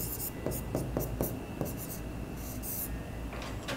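A pen writes accounting journal entries by hand on paper, giving soft scratchy strokes in short bursts with pauses between them, close and quiet, with a faint steady hum underneath.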